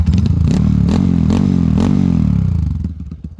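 A bored-up Honda CRF motorcycle fitted with a GP7 exhaust revs hard and close, a loud, raspy engine roar pulsing through several throttle blips before easing off at the end.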